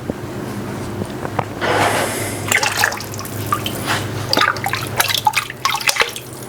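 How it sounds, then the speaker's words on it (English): Water runs and splashes while a measuring scoop is rinsed on a produce farm, a steady nearby wash of water broken by irregular drips and small knocks of the scoop. "Just rinse the scoop out a little bit"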